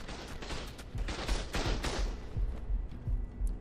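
Turret gunfire in ARK Ascended, rapid bursts of automatic shots with heavy low thumps, loud and close, tapering off toward the end, with no talk over it.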